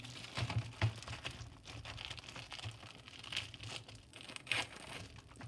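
The packaging of issue 31 of the Şut ve Gol football magazine is torn open, giving close, continuous crinkling and crumpling of plastic wrap. Sharper tearing bursts come through without any speech.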